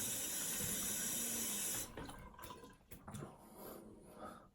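Cold tap water runs steadily into a sink for a shaving rinse, a loud broadband rush that abruptly cuts back after a couple of seconds to softer, uneven splashing and dripping.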